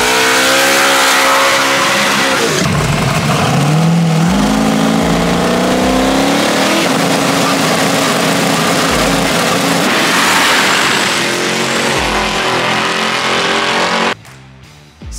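A drag race car roars through a fast pass at a Sick Week event, engine loud and close, revving and shifting through gears with rising and falling pitch before cutting off abruptly near the end.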